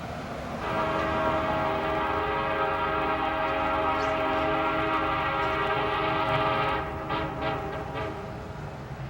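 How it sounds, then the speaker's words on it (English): A Union Pacific freight train climbs the grade on Donner Pass, its locomotive horn sounding loud and sustained over a heavy, continuous engine rumble, with clanks and squeals near the end. "Notice the grade the train is on as it starts its climb"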